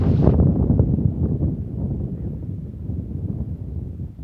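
Steady outdoor wind roaring and buffeting the microphone on the coast of Caye Caulker, a continuous low rumble with rustling, fairly loud and without talk.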